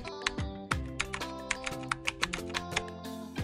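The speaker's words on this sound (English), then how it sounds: "I'll start typing the message of this note." Keys clacking on a computer keyboard while a message is typed into a Photoshop note, a brisk irregular run of sharp close taps with no voices.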